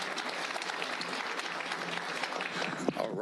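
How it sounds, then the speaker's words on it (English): An audience at a public school board meeting applauds student state champions, sustained clapping from a room of people with a few voices mixed in near the end. "Let's give them a round of applause right out the gate."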